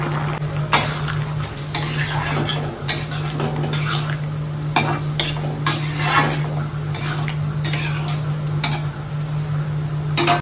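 A spoon stirs a milk and flour mixture into bottle gourd shukto in a metal pot, making repeated loud scraping clanks and clinks in an irregular rhythm over a steady low hum.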